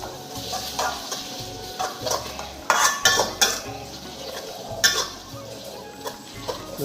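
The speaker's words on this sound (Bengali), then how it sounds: "এখন লাড়াচাড়া চলছে" Chicken curry with chili paste is stirred in a pan: repeated scraping and clattering strokes of a spoon against the metal, with a soft sizzle underneath and a few louder knocks, close by.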